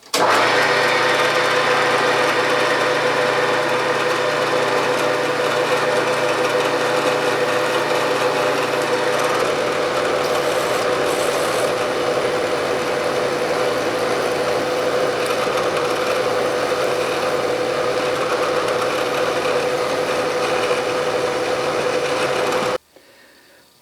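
A drill bores through a metal collar clamped in a small vise on a gear cutting fixture, making a steady, loud machine whine with a low motor hum at first, running continuously before stopping abruptly near the end.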